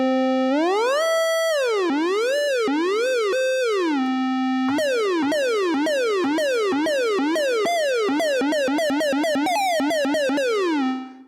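An iOS SNES-style chiptune mono synth plays bright, pure-toned single notes that slide up and down with glide, one note at a time, in a quick, busy retro melody that stops abruptly at the end.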